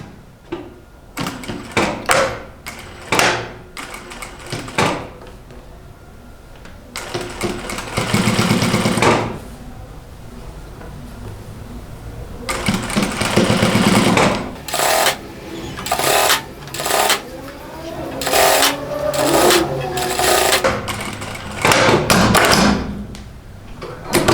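Sewing machine stitching the round collar of a men's T-shirt, running in repeated bursts of rapid mechanical whirring separated by brief pauses and handling clatter, close and loud with no talk.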